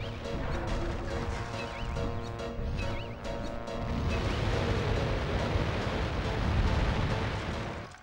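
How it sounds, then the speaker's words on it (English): A loud, rumbling explosion bursts in the platform video game Ty 2: Bush Rescue, breaking over game sounds and holding a heavy roar for several seconds before it cuts off. "Explosion!"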